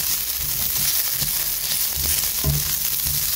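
Curry leaves frying with onions for a crab curry, a loud, continuous hiss of hot oil with soft stirring thumps beneath it.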